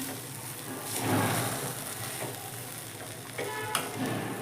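Vari rice mixed with peanut powder and coriander is stirred in a hot pan, a continuous close-up sizzle with scraping and soft mixing sounds and occasional light clinks.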